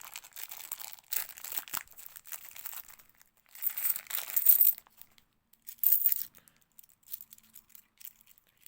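Scissors cut open a plastic coin bag, close crinkling and snipping in irregular bursts with pauses of quiet between them.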